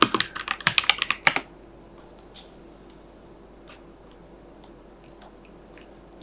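A rapid flurry of clicky keystrokes on a computer keyboard for about a second, then a few faint, scattered taps in a quiet room.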